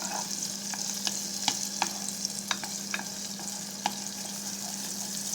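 Pork roast sauce frying and browning in a pan, a steady sizzle with a low hum underneath and scattered light clicks of a spoon stirring, no voices.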